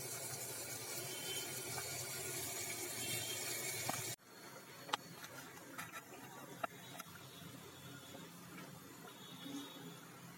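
Water poured into a pan of cooking ivy gourd and potato curry, a steady splashing pour for about four seconds that stops abruptly, followed by quiet kitchen stillness with a few faint clicks.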